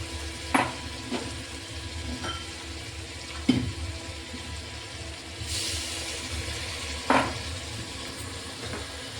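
Cumin seeds fry in hot oil with a steady low sizzle, broken by a few sharp clanks of a spoon against the pan and a brief hiss of added liquid near the middle.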